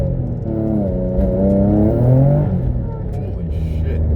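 Infiniti G35 coupe with six-speed manual and single-piece aluminum driveshaft, accelerating hard from a roll on wet pavement with wheels spinning; a loud, steady engine drone rises slightly in pitch throughout, under talk.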